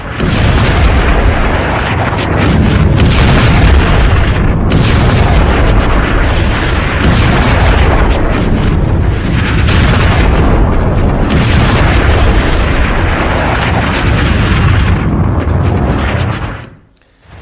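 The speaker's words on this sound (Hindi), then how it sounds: "फास्फोरस बम दाग दिया है इजराइल ने" Loud, continuous booming from Israeli phosphorus bomb strikes on a Hezbollah position, a dense roar of repeated heavy blasts and rumbling bursts lasting about sixteen seconds before it drops away abruptly.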